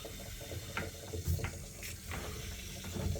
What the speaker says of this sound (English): Let's wait for the hot water to come through.